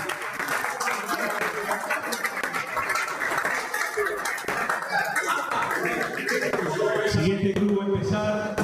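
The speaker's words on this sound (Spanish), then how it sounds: "Fuerte aplauso." A crowd applauds at a Galician club spearfishing championship, a continuous patter of clapping under an announcer's voice.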